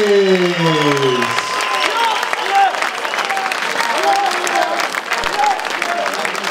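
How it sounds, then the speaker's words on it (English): Boxing fight crowd in an arena applauds the opponent, steady dense clapping and cheering throughout, with a voice heard over the top at the start. "please continue that applause for the gallant opponent, Ruslans Pojonisevs"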